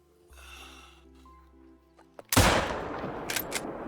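In a hunting video game, a single loud hunting rifle shot cracks out after quiet ambient tones, followed by a noisy decaying tail and a couple of faint later clicks.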